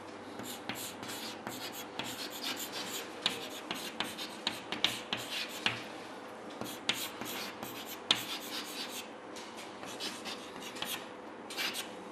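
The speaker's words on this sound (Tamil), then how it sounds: "அது என்னன்றதை எழுதுகிறேன் பாருங்கள்" A pen writes an English sentence on paper, a steady close scratching of strokes and short dashes continuing for several seconds, dry and crisp with no voice over it.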